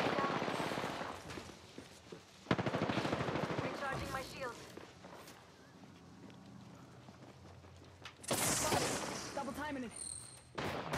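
Video game gunfire crackles in bursts, a loud volley early and another sharp burst near the end, with quieter stretches between and background game sounds.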